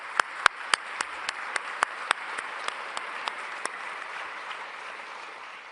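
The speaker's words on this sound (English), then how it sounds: "Please give her an applause." Sparse, slowing claps from a small audience welcoming a European Commission figure at a panel discussion, about a dozen distinct claps that thin out and fade, fairly faint against a quiet room.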